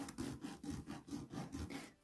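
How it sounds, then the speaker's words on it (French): A soft nail file smooths the surface of a broken natural fingernail during repair, giving quiet, close rasping strokes in a steady back-and-forth rhythm of about four per second, with no talking. "je peux lisser la surface. Donc, je vais le faire avec une lime douce."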